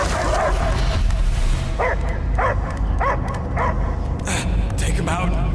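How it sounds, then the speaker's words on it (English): A dog barking and yipping in the Guardians of the Galaxy video game, a series of sharp, evenly spaced barks over a steady low game rumble, with voices talking alongside. "I hear only barking."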